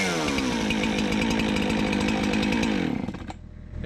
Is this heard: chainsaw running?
yes